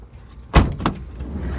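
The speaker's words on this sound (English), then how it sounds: "Slide the open door open." A van's sliding side door, on a van with a third row of seats at a public car auction, rolls open in one loud, close thump-and-slide, followed by a softer second knock and steady background noise.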